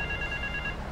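A telephone rings briefly for a phone mission in GTA: Vice City, a steady electronic trill over a loud background hum.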